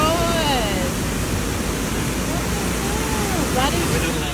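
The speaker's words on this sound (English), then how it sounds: "Tambourine Mountain Road turns into a waterfall during Storm Alfred" Storm water pours down Tamborine Mountain Road during Storm Alfred, a loud, unbroken roaring rush like a waterfall, with faint voices audible beneath the torrent.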